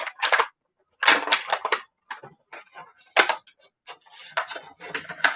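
Irregular bursts of crinkling and tearing as child-proof plastic packaging is wrestled open, coming close by in quick clusters separated by brief pauses.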